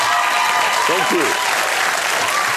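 A studio audience on a late-night talk show applauds in a dense, steady wash of clapping, with a voice speaking briefly over it.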